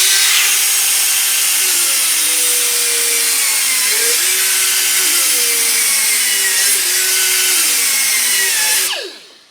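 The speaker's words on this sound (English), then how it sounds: "So when you bringing your cutter along here and you're grinding this." Power grinder with a 120 grit pad sharpening a lawnmower blade: a loud, continuous high-pitched whir with shifting grinding pitch as metal is worked, held steady for about nine seconds before spinning down at the end.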